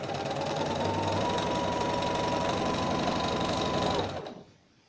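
Sewing machine stitching pink fabric pieces together, a fast steady mechanical whir running loud and close for about four seconds before stopping abruptly.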